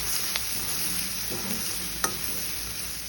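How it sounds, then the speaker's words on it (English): Chopped onion fries in hot oil for a Goan red beef curry, giving a steady close sizzle with a few sharp clicks of stirring and a brief scrape partway through. "I'm going to add the remaining half of the onion and let it fry again till it is translucent"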